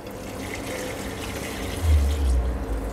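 Water poured into a cooking pot for boiling cashews, a soft steady trickle that swells into a fuller splashing pour near the end, close and alone.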